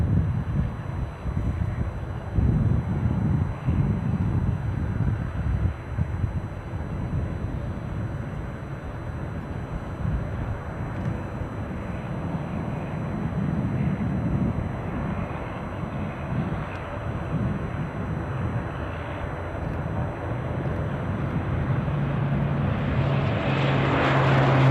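An airliner beginning its takeoff roll at Aberdeen Airport gives off a low, rumbling engine drone that stays steady and moderately distant, with some wind buffeting on the microphone and no voices.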